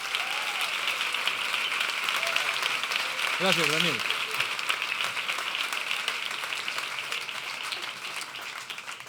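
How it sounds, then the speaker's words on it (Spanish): An audience gives steady, moderately distant applause that holds for several seconds, then slowly thins, while someone speaks briefly over it. "Un fuerte aplauso, por favor,"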